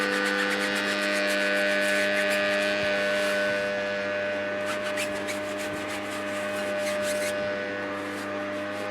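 A tire brush scrubs the tire of a Porsche 911 Turbo S during a wash, giving a steady close-up bristle rubbing over a constant electrical hum, with no speech.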